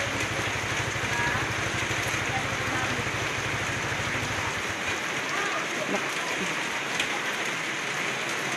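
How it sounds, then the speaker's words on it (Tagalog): Heavy rain falls as a steady, dense hiss that fills the whole stretch, with a low engine idle rumbling underneath for the first half before fading out. "Naubutan po sila ng ulan na malakas."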